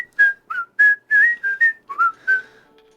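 A person whistles a short tune of about nine clear, separate notes in a quick, uneven rhythm, close and fairly loud, with no talking.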